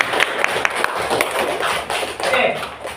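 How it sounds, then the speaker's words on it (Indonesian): A class applauding in a school classroom: a dense, fairly loud patter of many hands clapping, with a few sharper taps standing out, continuing for a few seconds. "Silakan tepuk tangan."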